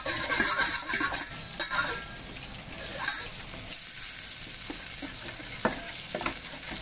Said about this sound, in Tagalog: malapit nang maluto yung fried chicken